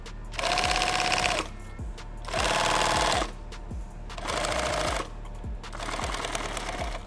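A sewing machine stitches flat webbing for a Thermacell pouch in four loud, close bursts of fast, even clatter, with short gaps of quieter handling and a low motor hum between runs.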